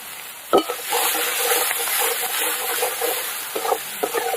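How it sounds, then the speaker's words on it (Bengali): Chopped onion with cumin fries in a pan, a bright continuous hiss with a sharp scrape at the start and a few more scrapes of stirring near the end, loud and close, no talking. "পেঁয়াজটা ভালো করে একদম লাল করে ভেজে নেব"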